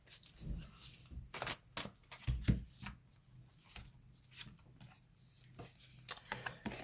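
Tarot cards are shuffled by hand, giving soft irregular riffles, slaps and rustles close by, with intermittent taps as the deck is handled over several seconds.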